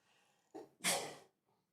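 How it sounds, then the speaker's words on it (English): A single sharp sneeze, preceded by a quick indrawn breath, close and fairly quiet, with no talking. "Sneeze."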